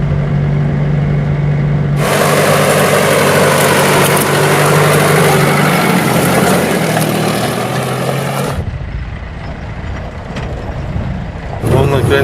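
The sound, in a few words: car engines on a road by the BAM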